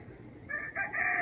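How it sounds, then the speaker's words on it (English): A rooster crows once in a rising, strained call, coming in after a brief quiet start. "You can hear my neighbor's roosters and probably some of the dogs barking around here."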